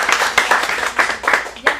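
Short burst of audience applause at a teen acting studio showcase in Phoenix, a few loud sharp claps rising and falling over under two seconds, close and uneven.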